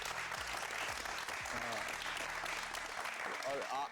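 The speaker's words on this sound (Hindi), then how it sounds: "बिल्कुल अली सिकंदर के लिए तालियां" Studio audience applause for actor Ali Sikandar, steady and dense throughout, with voices mixed in underneath.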